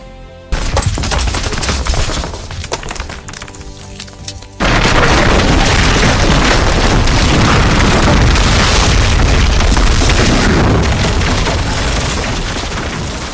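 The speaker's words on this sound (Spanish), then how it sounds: "Recuerdo las explosiones. Estaban muy cerca." A loud, sustained roar of booming blasts and crackling bursts, dense and rumbling, swelling suddenly after a few seconds and filling the space.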